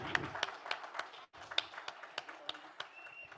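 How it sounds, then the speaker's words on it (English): Light, scattered clapping from an audience at an awards event, with sparse individual claps spread across a few seconds, faint and distant, and voices murmuring in the background. "let's not disappoint him with a bigger round of applause"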